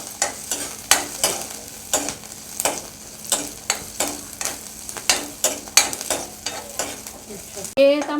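Garlic roasting in a hot pan, stirred over and over in a steady rhythm of scraping strokes roughly every half second, with a soft sizzle underneath, close and clear, ending in a brief squeak.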